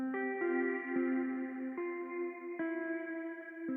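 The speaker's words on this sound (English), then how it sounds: "And then the second guitar sounds more like this." Clean guitar chords from a lo-fi software guitar preset with shimmer reverb ring with bright, shimmering sustained overtones and a long reverb wash, shifting chords every second or so.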